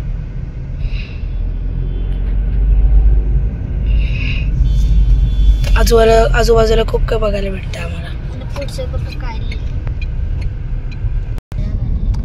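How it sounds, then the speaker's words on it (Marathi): Busy road traffic with cars and other vehicles passing near Palaspe on the way toward Mumbai: a steady, loud low rumble of engines runs throughout while someone talks over it. "तर तुम्ही इथून पाहू शकता किती ट्रॅफिक आणि किती गाड्या आहेत"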